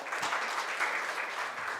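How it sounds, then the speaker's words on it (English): Audience at a speech event in Kerala claps in a brief, dense burst of applause, steady and fairly close, with no voices over it. "I think he needs a big applause for that"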